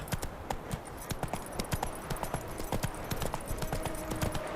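Hooves of Roach, the horse in The Witcher 3, clip-clop in a brisk galloping rhythm, sharp and close, repeating steadily over a faint background.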